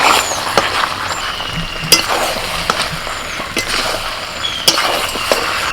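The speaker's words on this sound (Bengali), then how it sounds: "এখন এর মধ্যে আমি দিয়ে দিচ্ছি ভেজে রাখা আলু" Chicken stir-fried in a pan with pre-fried potatoes, a steady close sizzle broken by several sharp metallic clinks of a spatula against the pan, with no talk.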